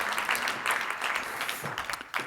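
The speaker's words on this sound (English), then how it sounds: "Give them a large hand of applause." Audience at a conference panel session on energy efficiency applauds steadily, a dense patter of many hands clapping at moderate volume throughout, with no talk over it.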